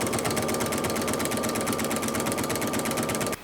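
A sewing machine runs steadily and fast while backstitching at the end of a T-shirt quilt seam, a loud continuous whirring stitch rhythm that holds without pause and stops abruptly at the very end.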